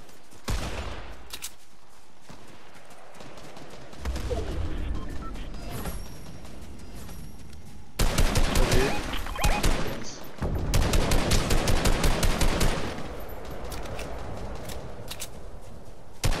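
Fortnite Zero Build Reload mode gunfire: scattered single shots, then rapid bursts of automatic fire in dense clusters, loud and close, with a few far-off reports between them.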